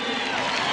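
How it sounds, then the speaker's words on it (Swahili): A stadium crowd applauds steadily at a Mashujaa Day celebration in Wang'uru Stadium, Kirinyaga, welcoming Kenya's Deputy President and his wife. The clapping forms a dense, continuous wash for less than a second. "Tuwapongeze kwa makofi."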